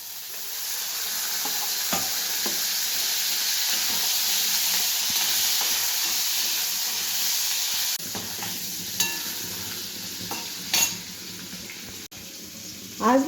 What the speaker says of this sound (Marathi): आता सेपरेट पनीर भाजून घेते थोडस